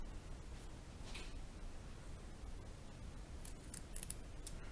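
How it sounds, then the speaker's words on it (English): Sharp scissors snip through the fur of an angora rabbit at the back, giving faint crisp clicks and cuts over a low steady hiss, a few quick snips clustering toward the end, with no talking. "We're going to start with clipping the area in the back to start to get our clippers through."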